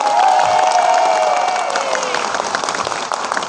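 A crowd at an award ceremony gives a loud burst of applause and cheering, broad and continuous, with a held tonal sound gliding through it before the clapping thins slightly.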